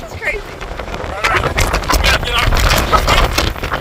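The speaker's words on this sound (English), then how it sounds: "It's just so dang windy." Strong gusting wind buffeting the microphone on an exposed coastal hillside trail, loud rumbling roar that swells and builds, with a voice speaking over it.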